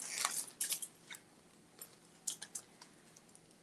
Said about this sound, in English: I got scissors. Just a second.